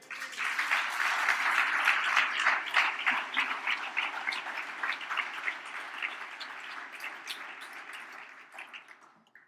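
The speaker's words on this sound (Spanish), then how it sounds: "Denle un aplauso a él" A church congregation applauds during a service, a full round of many hands that swells quickly, holds steady and bright, then gradually thins and trails away to silence.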